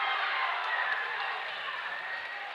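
A Holy Cross crowd cheers and roars steadily in a school gym during an 8th grade basketball sectional championship, a dense, sustained wash of voices that fades slightly toward the end.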